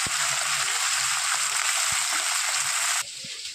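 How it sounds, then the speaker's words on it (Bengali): Bata fish frying in oil in a pan, a loud steady sizzle that runs on and then drops a little in level near the end, with no voices. "আরেক পিঠ আমি ভালো করে ভেজে নেব।"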